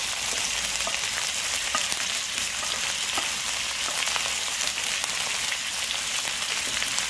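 Red and green capsicum, onion and carrots sautéing in a pan for chicken manchurian stir fry: a close, dense and continuous hiss of frying with no talk.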